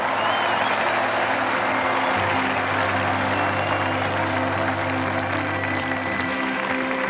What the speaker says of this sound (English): Crowd's going wild out there.